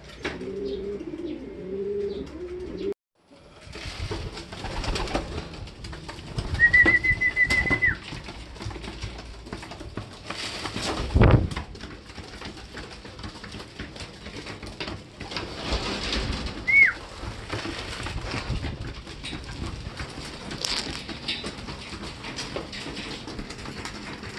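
Racing pigeons in a loft after a hard derby race, soft low cooing scattered across a noisy background, with occasional brief chirps and rustling, some louder thumps, and no speech.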